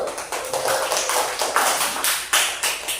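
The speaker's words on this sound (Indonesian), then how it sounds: "Tepuk tangan dulu." Students in an Indonesian classroom clap for group 1 after results are announced, a dense patter of many hands at moderate distance, steady and unbroken for a few seconds.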